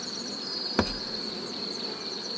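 Honey bees buzz steadily around a hive frame at a drone-brood harvest, a continuous close insect hum with one brief sharp knock near the start.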